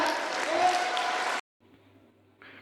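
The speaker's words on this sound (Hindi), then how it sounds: "सबके लिए तालियां बजनी चाहिए यहाँ पर" Students and guests at a school cyber crime workshop clap in a brief burst of applause that stops suddenly, followed by quiet room noise and a faint voice.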